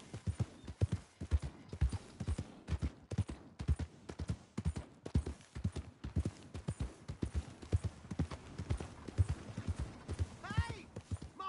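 A horse's hooves clip-clop in a steady, close walking rhythm throughout, with a brief whinny near the end.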